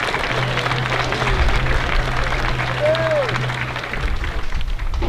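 Spectators at a summer collegiate baseball game between the Bend Elks and Victoria HarbourCats cheer and applaud in a steady crowd roar, with a faint whistle partway through.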